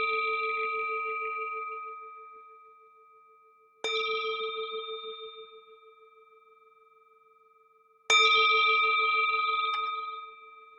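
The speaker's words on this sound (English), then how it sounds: "The sound of this beautiful bell returns us to our true home." A meditation bell is struck three times, each clear, resonant strike ringing out with a long, slowly fading tone before the next, heard alone with no voices.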